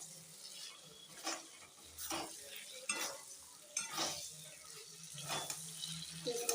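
Fried potatoes being stirred and sautéed with spices in a pan for cabbage dalna: repeated scraping strokes of a spatula recur every second or so over a soft, steady sizzle, close and moderately loud with no talking.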